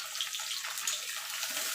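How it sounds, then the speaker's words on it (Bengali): Pointed gourd pieces frying in oil over low to medium gas give a steady, close, bright hiss of sizzling with small crackling fluctuations throughout. "এই তেলে আমি পটলগুলো ভেজে নেব।"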